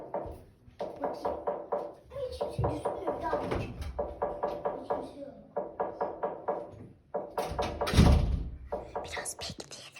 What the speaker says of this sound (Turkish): Kapıya gidiyor bakın. Kapı çalıyor.